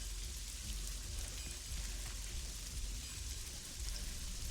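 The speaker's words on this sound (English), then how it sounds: "7 days of rainy weather" Steady rain pours down continuously in the Sacred 2 Gold Fallen Angel game, a dense, even hiss of falling water with no breaks, no speech over it.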